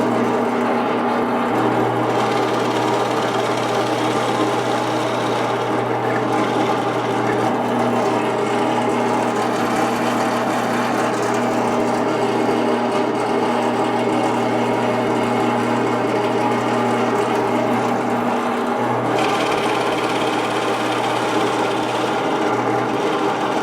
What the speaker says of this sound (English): let's drill these